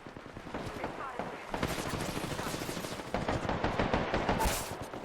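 Rapid automatic weapon fire in the video game Apex Legends, dense bursts of shots rattling almost continuously and loud throughout, with players talking over the gunfire.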